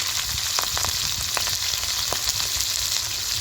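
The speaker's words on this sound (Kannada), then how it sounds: "ಸ್ವಲ್ಪ ಹಸಿಮೆಣ್ಸಿಗೆ ಹಾಕೋತಾ ಇದ್ದೀನಿ ಸ್ವಲ್ಪ ಇದ್ದೀನಿ ಒಂದೆರಡು ಈರುಳ್ಳಿ ಹಾಕ್ತಾಯಿದ್ದೀನಿ" Mustard seeds, green chilies and onions fry in hot oil, giving a constant close sizzle dotted with sharp crackling pops from the seeds throughout, with no one speaking.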